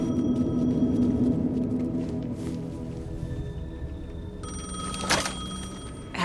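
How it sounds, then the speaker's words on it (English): A payphone rings in Alan Wake 2, a steady electronic ringing running through the clip over a dense, murky game ambience, with a brighter burst near the end. "The payphone was ringing."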